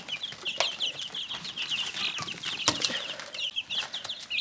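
Dozens of two-week-old chicks cheep in a steady, overlapping chorus of high peeps, close and lively, with occasional soft thumps and rustles among them.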